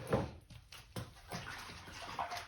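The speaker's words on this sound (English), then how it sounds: "then you get yourself some hot soapy water like this" Hot soapy water sloshing and splashing in a container while cleaning a tool box, a few uneven swishes close by and fairly quiet, with no talking.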